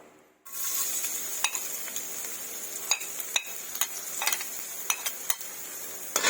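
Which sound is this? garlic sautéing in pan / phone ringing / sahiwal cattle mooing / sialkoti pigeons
garlic sautéing in pan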